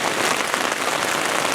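Heavy rain beats on a tent in a steady, dense, loud patter with no pauses, no voices present.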